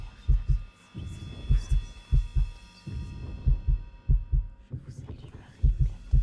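Heartbeat sound effect in the video game Lucius, a steady series of deep double thumps pulsing about once a second under a low hum, close and prominent.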